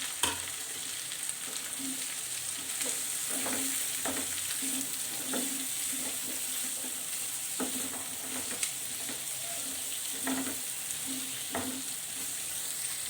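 Chunky onion pieces fry in a pan for baingan bharta, a steady sizzle with repeated stirring scrapes and clicks at an irregular pace, close and fairly quiet, no talking.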